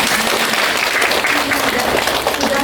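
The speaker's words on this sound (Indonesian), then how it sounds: "tepuk tangan dulu deh buat Edi." A seated audience at a university teaching presentation gives a continuous round of applause, a thick, even wash of clapping from many hands that holds steady throughout, with faint voices underneath.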